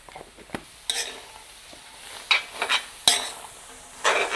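A utensil scrapes and stirs through sliced onions and salt in a pan, a handful of short, scattered strokes against a faint background sizzle.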